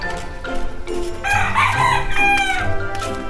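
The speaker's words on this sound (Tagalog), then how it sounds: "Ito yung manok." A rooster crows loudly and close by, one long cock-a-doodle-doo with clucking around it.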